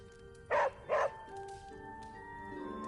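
Charlie, a pet dog, lets out two quick, loud barks close by over a steady background hum with faint tonal music.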